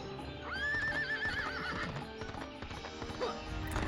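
Hooves clip-clop rapidly in a gallop while a horse lets out a long, rising whinny, set against busy game music and effects from the Original Xbox game Knight's Apprentice: Memorick's Adventures.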